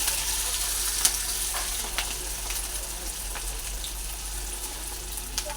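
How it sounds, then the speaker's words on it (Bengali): Battered pumpkin leaf rolls frying in hot oil produce a dense, even crackling sizzle with a few small pops and ticks, close and continuous with no one speaking. "এবার আমি এই ব্যাটারের মধ্যে দেব আর একটু ভেজে নেব।"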